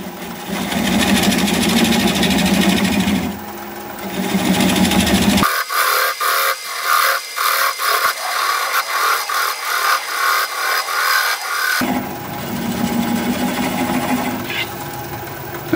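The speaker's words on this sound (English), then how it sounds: "I'm going to switch to a swept back bowl gouge so that I can get in there closer and tighter" A wood lathe turns a maple crotch bowl while a swept-back bowl gouge cuts it. Steady rubbing and scraping runs throughout, with a choppier, rhythmic stretch of repeated bursts in the middle.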